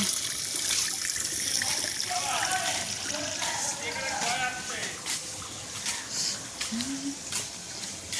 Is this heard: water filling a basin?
yes